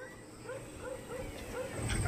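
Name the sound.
dogs barking on a mountain hillside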